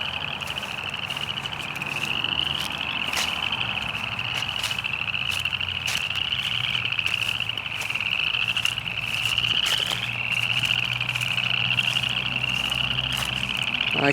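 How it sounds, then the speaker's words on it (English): Spring peeper frogs call from a marsh beside a creek in a dense, unbroken chorus of high peeps that holds steady and fairly loud from start to finish, with no talk. "I'll have to see if I can get closer to the spring peepers later."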